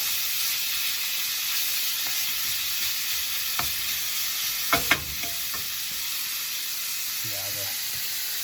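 Butter and garlic sizzle in a pan while being stirred, a steady hiss with a few light utensil clicks and scrapes, up close.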